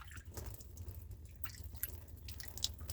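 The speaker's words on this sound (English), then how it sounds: "Soaking wet. Look, it's dripping." Water dripping off a soaking wet magnet, giving scattered small drips and splats over a steady low hum, close by and fairly quiet, with no talking.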